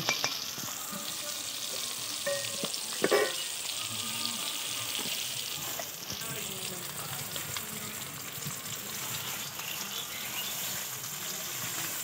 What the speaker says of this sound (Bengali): কাঁচা লঙ্কা, পেঁয়াজ, তেজপাতা, কালো জিরে একসঙ্গে ভেজে নেব।